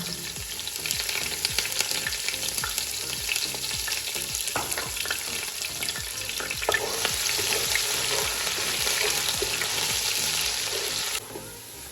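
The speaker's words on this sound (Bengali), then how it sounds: "তেল গরম হয়ে গেছে, এখন পেঁয়াজ দিয়ে দিব।" Onions and bay leaves fry in hot oil for polau, a steady crackling sizzle with occasional stirring scrapes and pops, close and continuous, easing slightly near the end.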